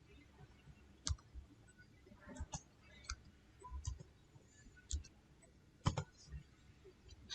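Sparse, faint computer mouse clicks while building a WordPress website, a handful of sharp isolated clicks spread irregularly over a quiet room background.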